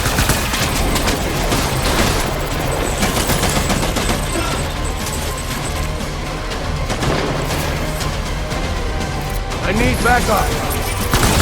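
Heavy gunfire in Death Stranding, with dense machine-gun bursts, crashes and mechanical clatter continuing loudly throughout, and a voice speaking briefly over the din.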